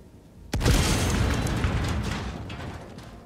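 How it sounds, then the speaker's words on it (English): A grenade explodes in the shooter game Helldivers 2, a sudden loud boom after a quiet moment, followed by a long rumbling, crackling decay. "Throwing grenade."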